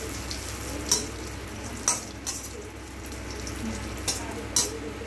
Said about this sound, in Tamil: அதுக்கப்புறம் நம்ம திராட்சையை போட்டு வறுத்துக்கலாம்.